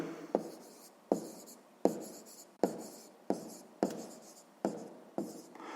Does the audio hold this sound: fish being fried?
no